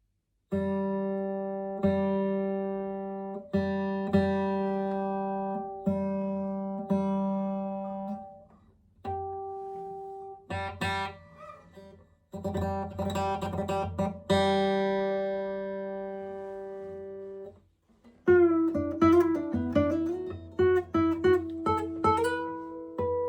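Seven-string steel-string acoustic guitar plucked alone, ringing notes and strummed chords in a gentle, unhurried flow, fairly close and clear with short pauses between phrases.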